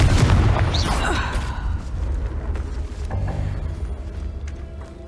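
A Confringo spell explosion in Hogwarts Legacy on PS5 goes off with a loud, close boom and crackling burst that rumbles and decays over several seconds under other game noise.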